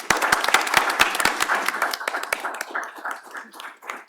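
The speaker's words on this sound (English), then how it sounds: "I wanted to at least give her a big round of applause to conclude her amazing time here at Petrie-Flom" An audience applauds for the outgoing executive director at the close of welcome remarks at a health law event, a few loud, distinct claps at first that thin into a softer, fading patter.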